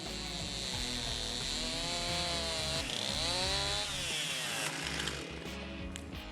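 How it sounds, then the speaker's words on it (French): A chainsaw cuts through black locust wood, its engine whining loud and close with the pitch rising and dipping as the chain bites and eases through the log. "Puis on a commencé à scier,"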